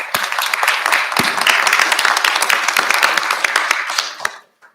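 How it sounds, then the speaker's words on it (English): Audience applause at a press conference at Governors State University, a dense, steady roar of many hands clapping close by for about four seconds before it quickly fades out. "Give yourselves a round of applause"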